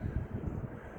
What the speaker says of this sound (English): Sorry about the wind level. It's really,